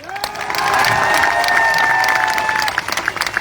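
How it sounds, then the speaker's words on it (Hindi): A seminar audience at a motivational talk in Lucknow breaks into applause that swells quickly and holds as a dense clatter of clapping with some cheering before thinning out. "ताली बजाओ तो ढंग से"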